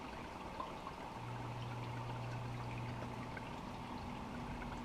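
Water pours in a steady stream onto seed starting mix and potting soil, a soft continuous splash and trickle with a faint low hum in the background.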